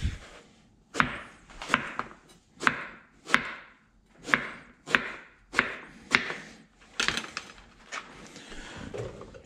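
Vegetables for ratatouille chopped with a knife on a cutting board: a steady series of about a dozen crisp, close knocks at a roughly even rhythm, alone with no talking.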